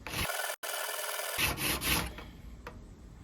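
A three-blade Woodsman broadhead is stroked against a sharpening file in quick, close, raspy scrapes, loud and continuous with brief pauses and no talking.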